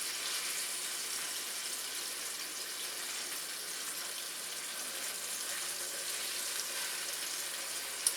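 Small pieces of chicken sizzle in a hot pan, a soft, even hiss that holds steady throughout, fairly quiet with a tiny click near the end and no talking.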